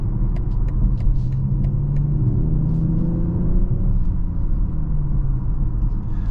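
A 2023 BMW X6 40i with its six-cylinder engine pulls onto a highway, giving a steady, loud low engine rumble and road noise from inside the cabin that holds throughout with no voices.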